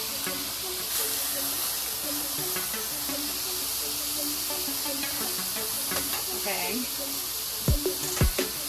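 Ground turkey sizzles in a skillet on medium-high heat with a steady, bright hiss of frying and crackling spatters, ending with a couple of sharp clanks from a utensil, while someone talks over it.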